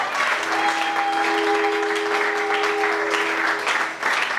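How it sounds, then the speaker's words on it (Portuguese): A church congregation applauds loudly and steadily, a dense continuous wash of clapping with a sustained keyboard or organ tone underneath that fades near the end. "Aplausos fortes para a glória de Deus."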